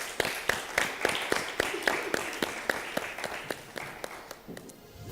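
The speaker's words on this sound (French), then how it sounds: "On t'applaudit encore une fois." An audience in a cooking competition studio claps for a contestant in a steady rhythmic beat of sharp, evenly spaced claps that fades near the end.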